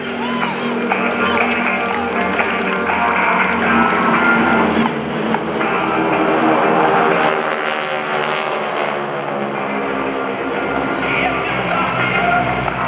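GEICO Skytypers propeller airplanes flying at the 2015 NAS Oceana Airshow, with a loud, sustained droning engine roar that swells and fades as the formation passes overhead, while an announcer talks over the public address.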